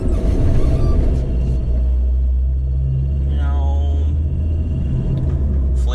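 A DAF truck with an oil leak drives around, its engine giving a steady, close, heavy low rumble that holds without a break throughout.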